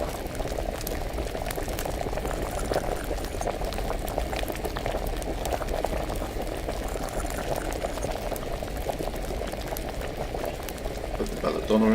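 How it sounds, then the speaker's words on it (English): A potion bubbles in a continuous, dense rolling boil while brewing at an alchemy bench in the video game Kingdom Come: Deliverance, and the boil stays steady and close throughout. "And it's stopped boiling, so let's continue the boiling."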